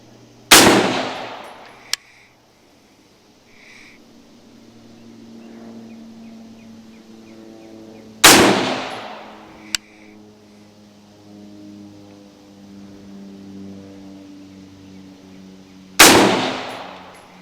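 Three loud, sharp rifle shots fired with 77 grain Federal Gold Medal match ammunition, spaced several seconds apart, each a sudden crack with a long decaying echo, and a steady low hum running underneath.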